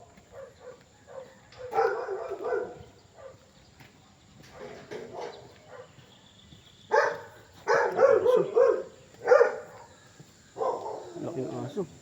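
A big dog barks in scattered bursts, several loud barks clustered together and spaced apart, over faint insect chirping and background noise, with a voice talking in between.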